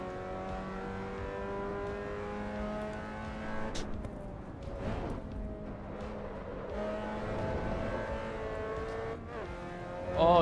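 A race car engine in the Assetto Corsa racing game holds a steady tone, then revs and shifts with rising and falling pitch, heard continuously at moderate level.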